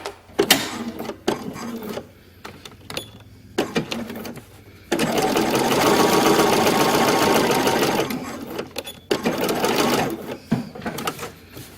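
A sewing machine stitches a label tag into a dress sleeve seam, starting with a few short bursts and clatters, then a steady loud run of about three seconds before more brief stitching pulses.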